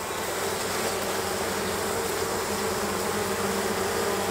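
Dense, steady buzzing of many honeybees swarming around an opened hive during a spring inspection, close and loud and continuing without a break, with no speech.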